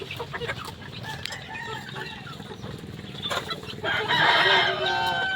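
Three-month-old pullets of SBR, Tornado and Golden Boy breeds clucking steadily nearby, with a louder burst of crowing and squawking near the end over a busy farmyard background.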